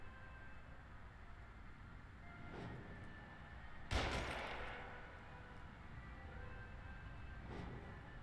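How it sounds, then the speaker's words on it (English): Gunfire in The Evil Within video game, a few distant shots with one sharper, louder crack standing out over a low ambient rumble, no talking. "I don't know where they're shooting at me from."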